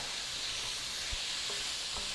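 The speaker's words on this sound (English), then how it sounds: "I'm also listening to what's happening, and I'm hearing a lot of sort of sizzling" Steady, soft sizzling hiss of turkey drippings frying in a pan for gravy, continuous and close, with a couple of faint clinks underneath.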